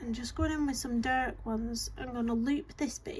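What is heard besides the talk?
No everyday noise stands out behind the speech.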